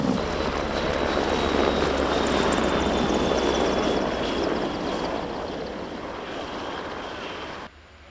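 Steady loud roar of a three-engine Merlin helicopter flying past at the Royal International Air Tattoo, a rushing whine that slowly fades before cutting off at the end.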